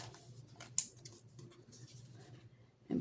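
Scissors snip out paper pumpkins at close range, a few faint, quiet cuts with a sharper click near the start and another at the very end.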